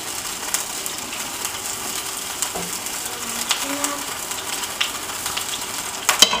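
Okonomiyaki batter fries on medium-high heat, a steady even sizzle with faint small crackles and a brief clink near the end, no talking.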